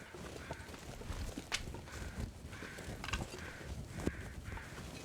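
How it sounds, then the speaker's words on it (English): Crows in The Long Dark video game caw in a series of short, evenly spaced calls at middle distance, faint over a rough wind-like background with a few soft thuds. "I hear crows"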